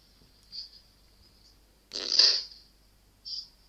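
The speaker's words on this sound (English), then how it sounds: "Did you just fart?" A short, airy fart sound bursts out in the middle, flanked by a couple of faint squeaky hisses in an otherwise quiet room.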